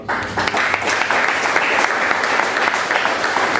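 A church congregation at a worship service applauds steadily, a dense, sustained roll of many hands clapping together at full volume from start to finish.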